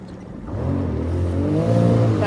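A Sea-Doo Trixx jet ski engine revving up as it pops a wheelie, a loud close droning whine that rises steadily in pitch over a couple of seconds.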